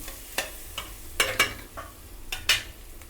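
Onion and tomato cooking in a pan with turmeric, a low steady sizzle broken by several sharp scraping stirs of a spoon, close and fairly quiet, with no talking.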